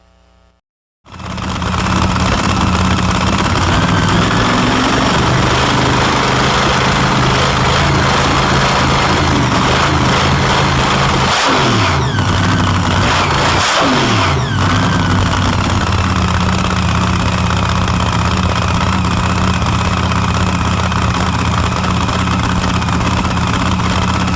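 A race coupe's engine fitted with a big new blower fires up and settles into a loud, steady, lumpy idle nearby, with two brief blips of revving partway through and no talking.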